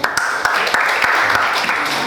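Steady applause from a classroom audience during a counseling lesson, a dense wash of clapping lasting a couple of seconds, with a few sharper claps standing out.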